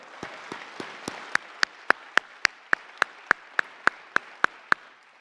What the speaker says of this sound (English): I clap for them too